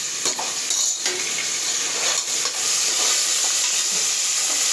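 Chopped tomatoes go into a pan of sautéing large onions for a bachelor-style Tamil chicken curry. A steady, close sizzle of frying runs throughout, broken by a few clinks and scrapes of a spoon stirring.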